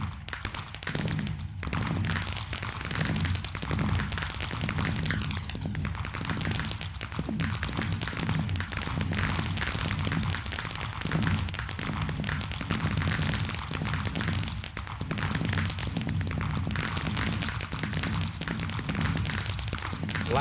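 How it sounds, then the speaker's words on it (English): A fireworks finale display in a modded Minecraft game, dense continuous booms and crackling bursts rolling on for about twenty seconds at a steady loud level, with no talk. "sit back and enjoy the finale fireworks display"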